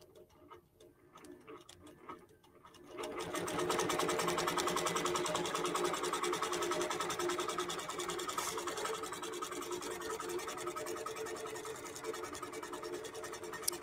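A QBOT V3 quilting machine starts up after a few quiet seconds, then stitches steadily with a fast, even ticking hum that stays close and continuous to the end.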